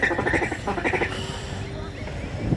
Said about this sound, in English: in the distance, you can hear the ducks waking up out on the marsh